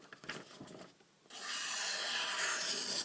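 A knife blade stroked across an 800 grit whetstone while deburring: a few short scraping rubs at first, a brief pause, then a continuous loud gritty hiss of steady sharpening strokes close up, with no voices.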